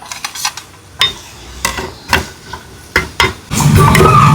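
Utensil scraping and clinking in a pan as chopped curry leaves and green chillies are stirred into a chicken liver roast, several sharp clacks followed by a steady frying sizzle toward the end, no talking.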